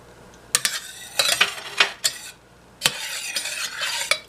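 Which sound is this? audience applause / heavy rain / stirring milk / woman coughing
stirring milk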